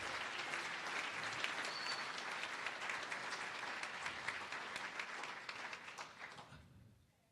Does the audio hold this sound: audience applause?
yes